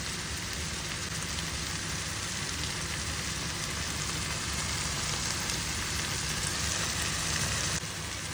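Ginger garlic paste, tomato and onion fry in oil in a pan, giving a dense, even sizzle that holds loud and unbroken throughout with no talking.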